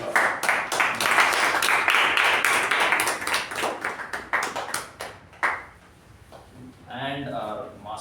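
A burst of clapping from a small crowd at a Toastmasters meeting, loud at first and then thinning to scattered claps before a voice starts speaking.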